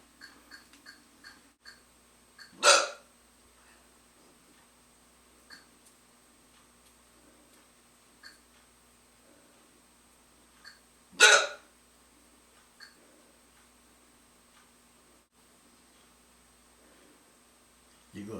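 A man hiccups twice, about nine seconds apart, each a sharp, fairly loud gulp in an otherwise quiet room, with a few faint ticks and small rustles in between.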